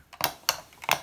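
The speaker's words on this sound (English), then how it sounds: "this is quite cheap, makes a clicking sound." Three sharp plastic clicks in quick succession, close by, as a cheap plastic jack snaps into place on a roll-up electronic drum kit.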